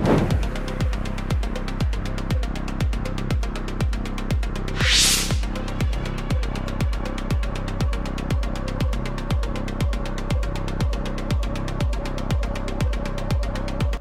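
A Yamaha FZ 250 motorcycle with an air-cooled 249 cc engine idles close by, a steady, even thumping pulse that runs evenly throughout, with one brief hiss partway through.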